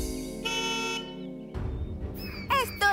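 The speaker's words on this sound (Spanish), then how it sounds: "Duri se dirigió al asiento del conductor y tocó el claxon" A cartoon car horn honks in two bright bursts partway through, following a sustained tone and mixed with lively animated sound effects.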